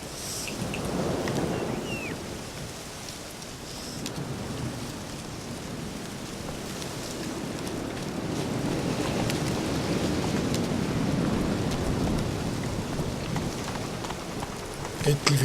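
A storm in the video game The Witcher 3 brings steady, dense rainfall with low rumbling thunder swelling beneath it, continuous and fairly loud, with a faint voice now and then over the downpour.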